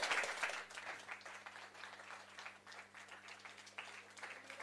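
A conference audience gives a round of applause after a panel discussion, a dense burst of clapping that starts strongly and then settles into a steadier, quieter patter.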